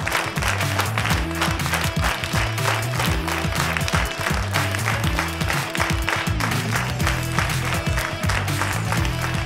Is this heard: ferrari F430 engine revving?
no